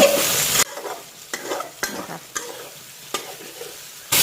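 Loud sizzling of eggs frying in hot oil in a pan while making mixed fried rice, broken by several scraping stirs of a utensil against the pan.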